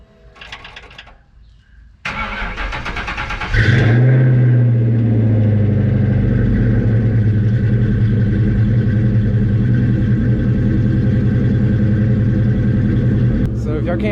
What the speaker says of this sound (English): So if y'all can't tell by the start of this clip, we got the car running.